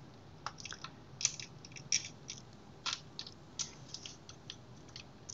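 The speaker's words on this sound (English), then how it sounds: "Advance a little bit while trying to engage with those sprockets in this wheel over here." The film advance of a Canon A-1 SLR clicks and ratchets as the sprockets engage, giving a series of quiet, close, irregular mechanical ticks and creaks.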